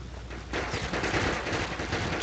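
Sustained automatic gunfire in the Joint Operations combat video game breaks out after a brief quieter lead-in, a dense, continuous rattle of rapid shots that stays loud to the end.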